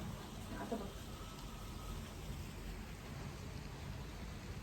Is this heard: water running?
no